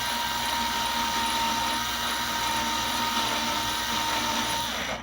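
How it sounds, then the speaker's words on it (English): A power drill whines steadily at close range, drilling through a Córdoba C5-CE guitar body into the cavity, its motor pitch holding nearly constant before winding down and stopping at the end. "And we're going to drill right in."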